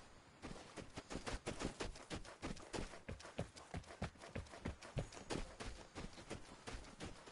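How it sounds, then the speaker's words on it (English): Faint, distant gunshots in the video game Escape from Tarkov on console, a long string of sharp pops and short bursts cracking off at an irregular rhythm, muffled and quiet throughout. "Shots popping off."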